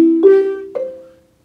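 Wooden marimba bars are struck in a short rising arpeggio, a few quick notes that ring briefly and fade into silence, close and alone.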